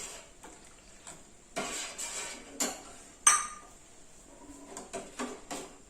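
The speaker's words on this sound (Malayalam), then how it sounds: "നല്ലോണം ഇളക്കി കൊടുക്കണം." A spoon stirs custard in a pot, giving faint scraping and clinking taps at an irregular rhythm, close and quiet with no talking.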